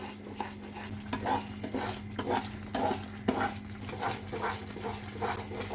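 Semolina halwa is stirred steadily in a pan over high flame, a soft repeated scraping and faint sizzle in an even rhythm under a low constant hum.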